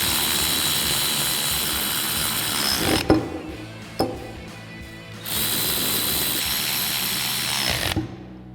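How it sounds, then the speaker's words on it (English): A tool with an 8mm hex bit tightens nuts on a 2019-2023 Chevrolet Silverado 1500 leveling kit strut, making two sustained whirring runs with sharp clicks and a pause between, heard up close. "we'll tighten them down using an 8mm Allen wrench"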